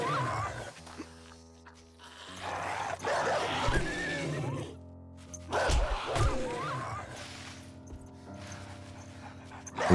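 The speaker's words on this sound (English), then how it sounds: "Oh crap. That's a dog." A hostile dog attacks in the video game 7 Days to Die, with close, loud growls, barks and panting in bursts that rise and fall.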